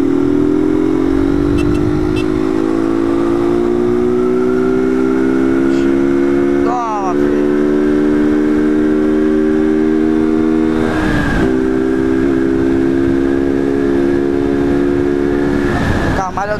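A Honda Fan 160 motorcycle engine revs at night, its loud, close drone climbing in pitch through the gears, with brief gear-change dips and renewed acceleration.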